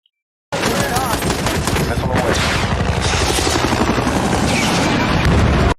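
Heavy, sustained military gunfire in the Iraq war drama series Generation Kill, dense automatic bursts and booms roaring loud and close after a silent start, with faint voices buried underneath.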